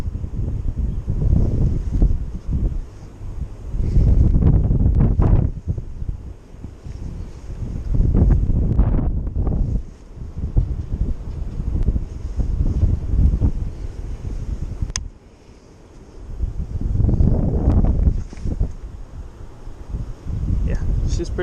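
Strong gusting wind buffets the microphone beside the Snowy River while fishing, heavy low rumbling surges rising and falling in long waves with brief lulls, loud and close.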